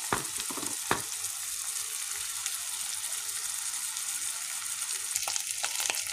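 Smashed potatoes fry in a pan with onion and tomato, making a continuous crackling sizzle, with a few scraping stirs near the start and again toward the end.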